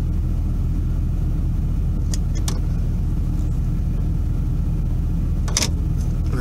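A Ford F-250 XLT Super Duty with the 6.7L engine driving along, heard from inside as a steady, heavy low rumble throughout with a few faint clicks and rattles on top.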